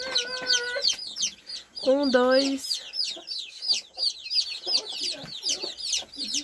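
Hen clucking near her small yellow, grey and black chicks, with a few loud clucks and calls early on, followed by a constant chorus of high peeping from the chicks close by; a person speaks briefly in between.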